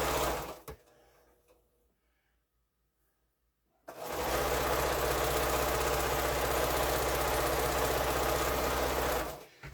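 Sewing machine stitching the seams of a rainbow quilt strip set, a steady loud mechanical whir that starts after a few quiet seconds and runs continuously almost to the end.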